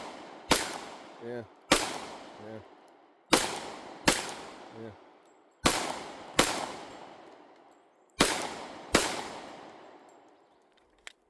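Handgun shots from a Glock 21 Gen 5 and an SR1911 Commander, fired in pairs of sharp, loud cracks with ringing decay, about eight shots in all, with a brief voice between.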